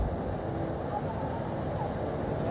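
A waterfall at Pale, a Maharashtra village known for its many waterfalls, gives a steady, dense roar of rushing water, loud and unbroken for the whole stretch, with no voices over it.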